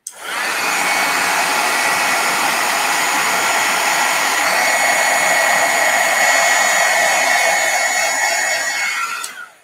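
A heat gun blows steadily for nearly ten seconds as it embosses stamping on a gift card box, a loud, even hot-air whoosh with no talking that cuts off at the end.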